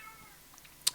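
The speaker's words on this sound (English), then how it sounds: "Apologies for the cat that just decided to randomly meow." A house cat lets out a single short, faint meow indoors near the end of an otherwise quiet moment.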